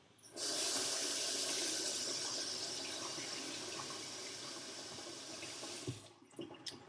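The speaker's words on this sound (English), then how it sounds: "I'm going to rinse off my hands real quick." Tap water runs steadily into a sink while hands are rinsed under it, a continuous close splashing hiss that holds for about five seconds and then cuts off, with a few drips and clatters after.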